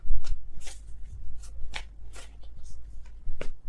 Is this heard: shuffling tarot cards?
yes